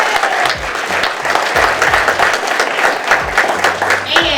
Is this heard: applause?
yes